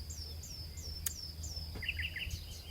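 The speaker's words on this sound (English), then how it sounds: "The bird sounds keep us grounded, they really do." Faint recorded birdsong plays on a livestream, a string of quiet, evenly spaced chirps with a few quick twittering notes near the end, over a low background hum.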